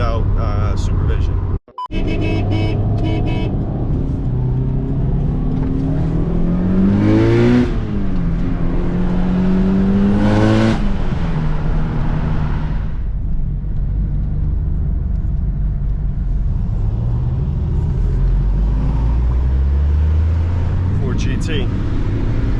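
A car roars on an off-road course at high speed, a loud sustained engine drone with rising and falling revs heard from inside, with people talking over it.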